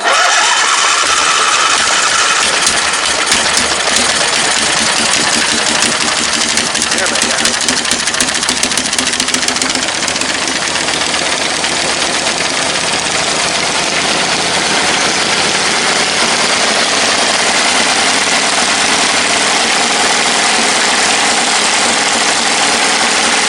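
An old engine, sitting unused for nearly a year and firing on only one cylinder, cranks and sputters to life, then settles into a loud, rough, uneven idle; someone speaks briefly.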